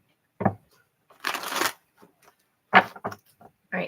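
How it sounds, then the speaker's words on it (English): Tarot cards are shuffled by hand in several short bursts of riffling and sliding, close and crisp, separated by quiet pauses with no voices. "This is the last shuffle, I promise."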